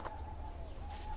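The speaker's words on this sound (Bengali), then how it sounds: "এখানে আমরা পাখির আওয়াজ শুনতে পাচ্ছি" A single bird calls faintly in a forest in Kolkata, one soft drawn-out coo over a low background hum.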